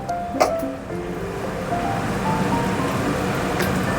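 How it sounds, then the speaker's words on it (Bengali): A steady broadband hiss rises as a little water is poured into hot fried masala for an egg curry. It carries on evenly for several seconds, close up and with no talking. "এবার জল দিয়ে দেবো অল্প করে।"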